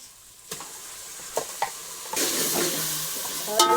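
Turmeric, coriander-cumin powder and tomato fry in a pan for a paneer curry, with a low sizzle and a few utensil knocks, then a louder, steady frying hiss as the spices are stirred in, heard close.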